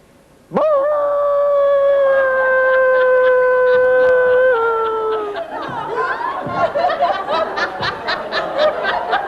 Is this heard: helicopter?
no